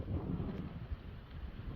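Low, gusty wind buffeting the microphone at a beach, a soft rumbling roar with no other distinct sounds.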